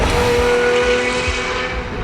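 A Lamborghini Murcielago LP670-4 SV with a naturally aspirated engine roars loudly and close on throttle, a dense sustained howl lasting about two seconds with no talking.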